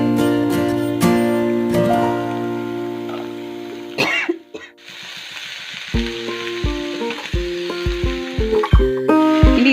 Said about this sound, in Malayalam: ഇനി ഇതിലേക്ക് നമുക്ക് കോവയ്ക്ക ഇടാം